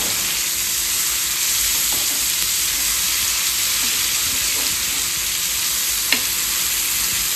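Food frying in a pan gives a loud, constant sizzle and hiss that fills the whole stretch, with a few faint taps and one sharper clink near the end.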